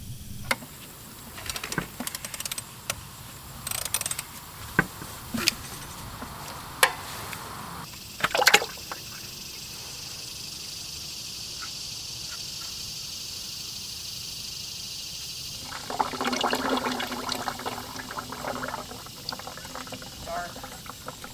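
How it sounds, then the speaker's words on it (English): Engine oil drains from an excavator's unbolted oil pan into a bucket, a steady liquid trickle that swells into a heavier pour late on, after earlier clanks and a voice talking. "So all I have to do is unbolt that and the oil should drain into my bucket."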